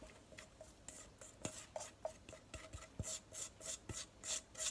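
Wet keto chocolate chip cookie dough mixture being scraped from a bowl into dry ingredients, repeated soft rasping strokes and light utensil taps against the bowl, close and quiet.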